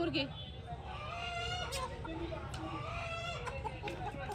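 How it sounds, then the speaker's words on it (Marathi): Chickens, hens and roosters for sale, cluck steadily amid a busy Sunday weekly outdoor market in Chhatrapati Sambhaji Nagar, with a crowd of voices chattering loudly around them. "इथे कोंबड्या ठेवलेल्या आहे विक्रीसाठी"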